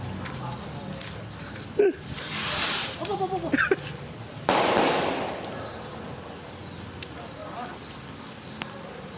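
Several small, low-powered firecrackers pop and crackle at intervals in rainy Christmas weather, some with a hissing burst, while people talk quietly nearby.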